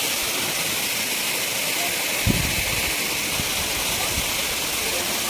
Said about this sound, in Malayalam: ചെറുതാണെങ്കിലും നല്ല സൂപ്പർ വെള്ളച്ചാട്ടം